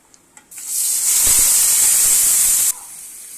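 Dry red chillies, bay leaf and five-spice seeds hitting hot oil in a pan, a sudden loud sizzling hiss that holds steady for about two seconds then cuts off, close by with no talk.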